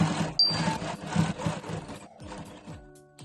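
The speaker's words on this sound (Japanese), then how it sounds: "続けてベルトのタレになる部分とショルダー紐、こちらにステッチをかけていきます" A sewing machine stitches the belt tab and shoulder strap of a handmade tote bag, giving a steady, close, rapid mechanical chatter that runs for a few seconds and then slows and stops.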